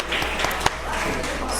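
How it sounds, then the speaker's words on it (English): An audience at a pub ghost story night gives a steady round of applause and cheering, a continuous crowd wash with one sharp clap standing out. "Give yourself a round of applause."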